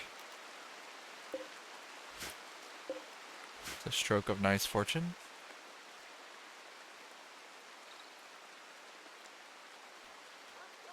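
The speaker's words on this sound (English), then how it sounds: "It's nice and rainy here." Steady rain hisses evenly throughout a RimWorld game scene, a soft, continuous wash of falling water, with a voice briefly speaking over it midway.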